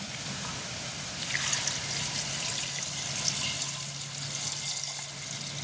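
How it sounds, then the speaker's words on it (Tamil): Water poured into a cooking pot to boil cassava in a village kitchen, a steady splashing trickle that grows slightly fuller midway and runs on continuously, close and moderately quiet. "இப்போ நாங்கள் இந்த கிழங்கு அவியணும் அப்போ கிழங்கு அவியறதுக்கு அளவாக தண்ணி விடுவோம்"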